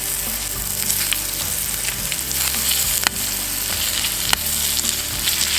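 Beetroot and beetroot leaves frying in a pan, a loud continuous close sizzle with a couple of sharp utensil clicks against the pan.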